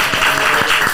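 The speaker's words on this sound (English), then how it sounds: "You give him a round of applause" Applause for Will: a short, dense burst of clapping filling the moment, loud and close with no talk over it.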